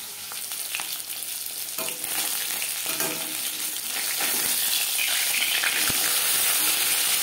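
Katla fish frying in oil, a dense continuous sizzle that swells gradually louder, with soft crackles and an occasional spatter, close by with no voices.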